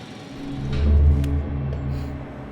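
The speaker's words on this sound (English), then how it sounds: "It's a drill." Loud, steady low drilling rumble in the sci-fi game The Invincible, swelling near the middle and then holding as a deep mechanical drone with a faint higher whine.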